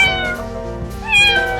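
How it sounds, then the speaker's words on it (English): A cartoon cat gives a loud, drawn-out meow that rises toward the end, heard alone over a tonal musical background. "cat"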